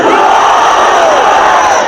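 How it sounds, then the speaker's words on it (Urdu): A large crowd at a religious rally in honour of Khatm-e-Nubuwwat shouts the Takbir slogan back in unison, a loud, dense massed roar that carries steadily through the whole moment. "دونوں ہاتھ کھڑے کر کے دل کی گہرائی کے ساتھ نعرہ لگاؤ، نعرے تکبیر۔"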